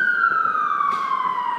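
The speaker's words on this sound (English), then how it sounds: "There have been so many sirens today," An emergency vehicle siren wails outside a classroom window, a loud steady descending tone that fills the short stretch alone.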